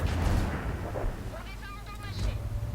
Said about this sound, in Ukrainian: Починає арта вже набридати з самого початку бою.